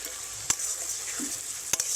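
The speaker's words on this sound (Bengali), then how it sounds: "টমেটো আর পেঁয়াজ লাল লাল করে ভেজে নিয়েছি।" Chopped tomatoes and onions fry in oil for a Bengali fish curry, giving a soft steady sizzle with two sharp clicks of a spoon stirring against the pan.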